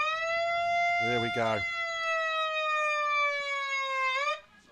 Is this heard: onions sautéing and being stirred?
no